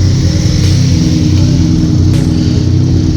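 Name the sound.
car engine running, exhaust sound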